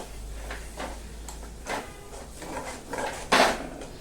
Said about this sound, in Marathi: थोडस तूप मी घालते अर्धा चमचा छान हलवून घेऊया